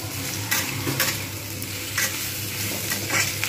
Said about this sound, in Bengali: আলু পেঁয়াজ একসঙ্গে ভাজা হতে থাকবে।